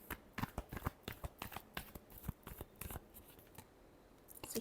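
Tarot cards being shuffled by hand, a quick series of crisp riffling snaps and soft slaps at close range with no talking.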